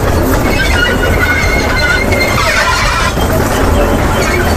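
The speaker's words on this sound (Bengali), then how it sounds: "ও বাবা কি আওয়াজ করছে টয় ট্রেনের" A toy train runs along small narrow tracks in an amusement park, a loud continuous rumble and rattle of wheels on rails with metallic squeals, close by and steady.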